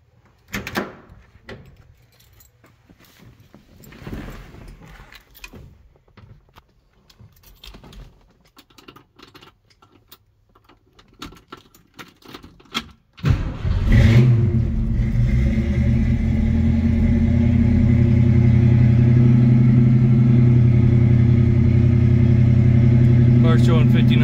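A 1966 Ford Mustang with a C-code 289 V8 cranks and fires at once, settling into a loud, steady idle with a deep, even rumble. Before the start there are quieter clicks, door and handling sounds.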